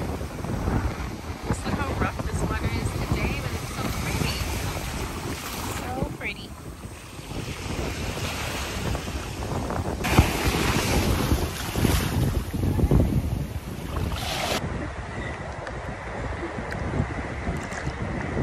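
Rough surf and waves off a beach at Bimini in the Bahamas, a steady broad wash of water mixed with heavy wind buffeting on the microphone, loud and continuous throughout.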